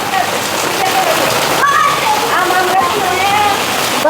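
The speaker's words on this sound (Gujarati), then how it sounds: "વરસાદ કેવો આવી રહ્યો છે ને તમને અહીંયા ખ્યાલ આવી જશે" Heavy rain pours steadily, the first rain of the season, a loud continuous hiss of drops on surfaces with a few brief gaps, while a person talks over it.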